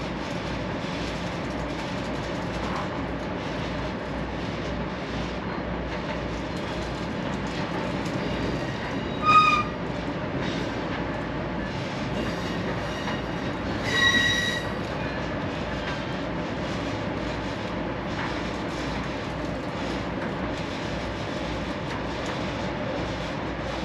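An Amtrak passenger train rolls along steadily, its constant rumble and rail noise filling the space, with two brief high wheel squeals rising out of the din.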